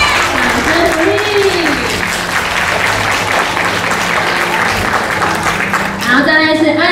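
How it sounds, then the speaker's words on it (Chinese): Sustained applause fills a kindergarten graduation ceremony as teachers are introduced, steady clapping from the audience for the whole stretch with a voice speaking over a loudspeaker at the start and again near the end. "掌声鼓励"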